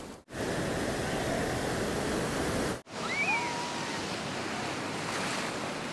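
Big sea waves at Bakkhali beach roar as a loud, continuous wash of surf with wind buffeting the microphone, faint high cries over it after a short break.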